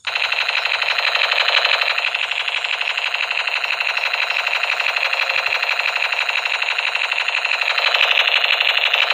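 A toy blaster-style gun in an automatic firing mode rattles out a continuous, rapid electronic burst, loud and unbroken from start to finish with no voices.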